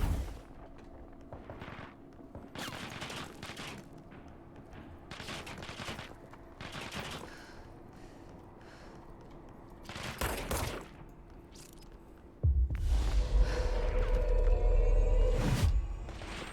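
Gunfire in the video game Control: scattered volleys of shots come in short clusters over a low hum, building to a louder, heavier barrage with deep rumble near the end.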